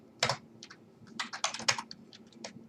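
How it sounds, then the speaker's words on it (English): Soft, irregular typing on a computer keyboard, quick clusters of key clicks with brief pauses, quiet and close. "I have trouble typing that word"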